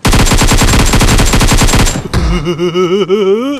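Rapid AKM rifle fire in PUBG Mobile: a loud, fast automatic burst of about two seconds, each shot punchy and close, then ringing tonal echo tails and a voice-like warble as it stops.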